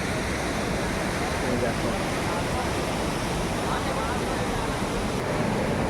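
Jonha Falls near Ranchi pours down into its pool below, a loud steady broadband roar of rushing water that fills the whole scene, with a brief spoken word over it.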